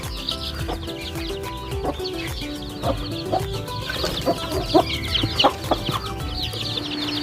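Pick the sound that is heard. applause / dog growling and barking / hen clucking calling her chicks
hen clucking calling her chicks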